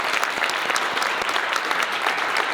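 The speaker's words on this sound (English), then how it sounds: "please stand up and let's give them a round of applause" Audience at a live corporate quarterly presentation applauding steadily, a dense, continuous wash of clapping from many people filling the room, with occasional louder individual claps standing out.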